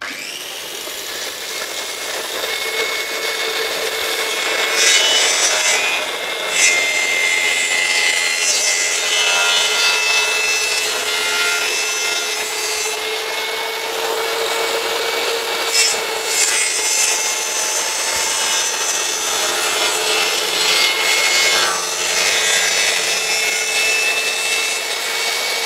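A Ronix RH-4350 165 mm plunge saw cutting a meranti wood board, giving a loud, steady, high-pitched whine and rasp that runs close and unbroken for the whole cut.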